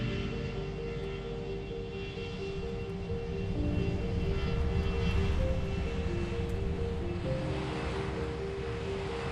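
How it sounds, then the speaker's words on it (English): An Air India Boeing 787 Dreamliner jet takes off down the runway, its engines a loud, steady roar with a droning tone that swells slightly midway and carries a broad rushing wash. "The massive Dreamliner roared down the runway."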